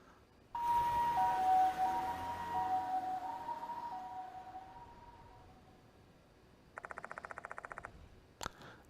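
Ambulance siren in a video game, a loud wailing siren that starts abruptly and slowly fades, followed by a fast rhythmic electronic chirping and a sharp click at the end.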